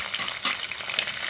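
Green chillies frying in hot oil for an aratikaya nuvvula fry, a close, bright, steady sizzle that hisses throughout.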